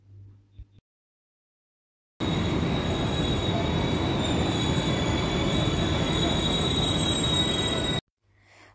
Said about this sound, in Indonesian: Perjalanan kali ini kita akan menggunakan moda transportasi kereta api.